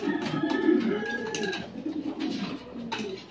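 Several pet pigeons coo close by in soft, low, rolling throaty calls that overlap continuously, with a few faint rustles in between and no talking.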